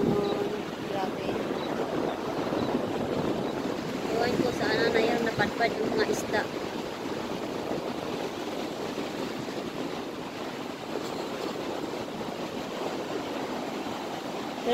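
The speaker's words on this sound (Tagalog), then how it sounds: "tingnan nyo yung alon, guys. Ang lakas ng alon." Strong sea waves wash onto a busy seashore where people are swimming, a steady rushing surf close by and loud throughout, with a person talking over it.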